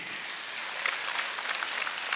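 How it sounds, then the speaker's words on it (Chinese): A church congregation claps during a worship song, a dense, steady patter of many hands that swells slightly toward the end, heard without voices. "如果你要拍手掌，"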